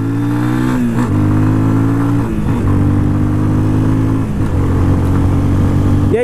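A Yamaha Fazer 250 motorcycle engine revs hard and close, its pitch climbing and then dropping at each of three gear shifts before climbing again, loud and steady with no talking.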